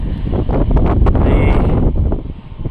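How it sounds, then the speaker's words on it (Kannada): Wind blowing hard against the microphone on a hilltop at Siddara Betta near Dobbaspete, a loud, rumbling roar that barely lets up, with a muffled voice faintly underneath. "ಗಾಳಿ ಬೇರೆ ಬೀಸೈತೆ"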